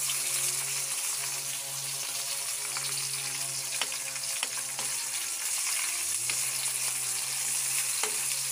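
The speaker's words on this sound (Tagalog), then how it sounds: "trip ko lang mag-prito ng okra" Okra sizzles and crackles steadily in hot oil, close up, with occasional sharper pops and a low hum underneath.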